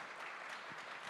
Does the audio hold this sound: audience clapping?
yes